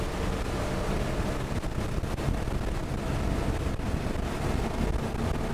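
A 28-foot Hydra Sports boat with twin 300 HP Suzuki outboards powers up on the water, a steady loud roar of engines and rushing water mixed with heavy wind buffeting across the whole stretch.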